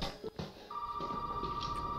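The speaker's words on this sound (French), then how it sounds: "le téléphone sonne" A telephone rings in the horror video game Resident Evil 7, a steady electronic tone that starts partway in and holds continuously to the end over a dim, murky game ambience, with a couple of soft thuds before it begins.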